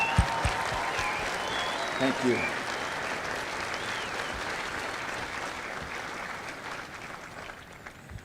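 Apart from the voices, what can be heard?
applause for drill instructors and families at Marine graduation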